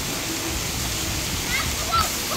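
Rushing, splashing water at a busy water park fills the scene as a steady broadband wash, with voices talking faintly underneath.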